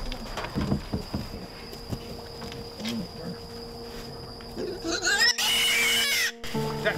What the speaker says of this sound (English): You got a lot of pigs.